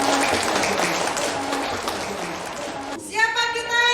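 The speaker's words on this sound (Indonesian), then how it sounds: "Tepuk tangan untuk kita semua." Crowd applause and cheering at a political rally declaring support for a mayoral candidate in Payakumbuh, a dense sustained roar filling the scene before giving way to a tonal chant or music near the end.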